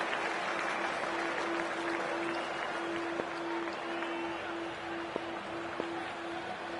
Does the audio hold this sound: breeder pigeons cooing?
no